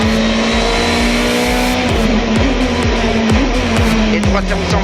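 Sébastien Loeb's Hyundai rally car at full attack on asphalt, its engine loud and close with a sustained high drone broken by rapid gearshift dips and brief tyre noise, no talk over it.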